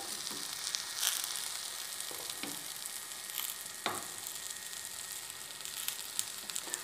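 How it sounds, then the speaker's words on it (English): Idlis frying in a pan give a constant close hiss and sizzle, with a few faint clinks and pops rising above the steady crackle. "Rotate the pan to cook all your idlis evenly."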